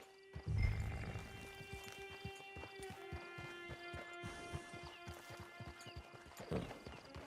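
In Red Dead Redemption 2 Online, a horse's hooves clip-clop in a steady walking rhythm, with a whinny near the start and another snort or neigh near the end, over a quiet game background.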